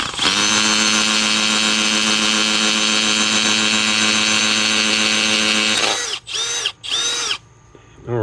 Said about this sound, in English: we're going to find out if my extension here holds up with the hammer drill